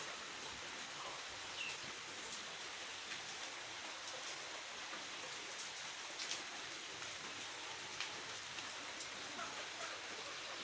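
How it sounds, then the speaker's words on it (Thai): Steady rain falls in an outdoor setting beside a pond, a soft continuous hiss with scattered distinct drops, faint and even throughout with no voices. "ฝนตกสองวันติดกันเลย"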